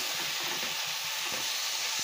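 Chopped tomatoes, three large ones, sautéing in a pan for chicken biryani: a steady, dense broadband sizzle with low stirring scrapes underneath, close and continuous, no voices.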